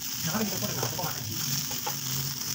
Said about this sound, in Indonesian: aku tambahin ebi ini opsional aku pakai sekitaran satu sendok makan kita tuang di bumbu yang sudah kita tumis